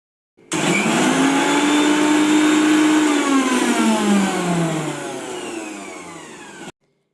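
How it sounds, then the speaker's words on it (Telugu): A mixer grinder blends neem leaves in its jar while making homemade soap, giving a loud, steady motor whine that starts abruptly, sags slightly in pitch as the load settles, and cuts off after about six seconds. "వేపాకుని ఈ విధంగా మిక్సీ జార్లో తీసుకోండి."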